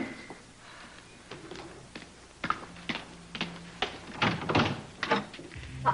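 A door is opened indoors, with a series of close knocks, clunks and rattling thuds that build toward the end, and no voices over them.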